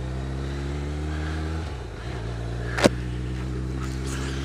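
A vehicle engine idles with a steady drone, then its pitch wavers and shifts as it pulls away, with a short sharp click near the end and no voices.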